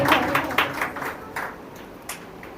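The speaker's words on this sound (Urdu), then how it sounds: "زوردار تالیاں ہاللیلویا" A church congregation claps in loud applause during a sermon. Claps start dense and strong, then thin into scattered, fading hits within a few seconds.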